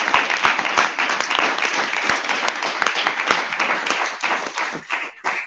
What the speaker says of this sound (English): Can we have a round of applause for our veterans?